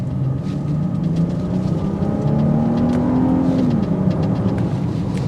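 A 2024 Genesis GV80 Prestige SUV accelerating hard in sport mode, its engine note climbing steadily through the rev range under constant loud road and wind rumble heard from inside the cabin.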